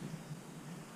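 Low, distant thunder rumbles steadily beneath soft rain-like noise at a roadside campsite in Armenia during a motorcycle trip, a faint continuous roll with no talking.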